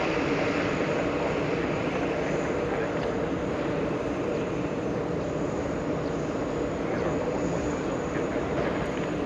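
A Singapore Airlines airliner taxiing to the gate at JFK gives off a steady, loud, broadband engine roar that holds constant throughout, with no notable changes or talk.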